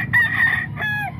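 A rooster crows close by, one full crow followed by a shorter second call, loud and clear with no other sounds.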